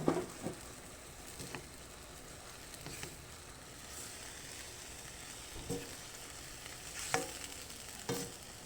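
Tofu and bean sprouts are stirred in a sizzling pan, a quiet steady fry with a few scattered scraping clacks of the utensil, close and soft, with no voices.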